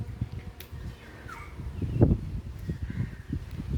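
Crows caw outdoors after rain, a few scattered calls at moderate distance over a steady rustling background with some low thumps.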